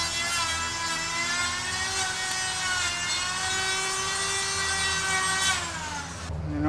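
A power tool cuts headliner material from a Nissan Frontier, a loud continuous whine with a steady pitch that holds for about six seconds before stopping abruptly.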